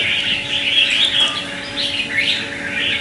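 Red-whiskered bulbuls chirp and trill in a steady, busy chorus of bright calls, close and continuous, with no talking.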